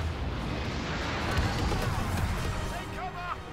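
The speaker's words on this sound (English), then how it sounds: "Barrage." Artillery barrage in the Star Wars Battlefront 2 campaign: a dense, continuous rumble of distant booms and impacts rolling through the whole stretch, with some voices over the top near the end.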